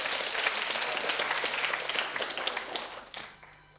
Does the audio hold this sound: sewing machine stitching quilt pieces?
no